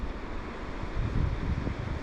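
Low rumbling wind buffeting the microphone while winter fishing, steady and gusty, with no voices.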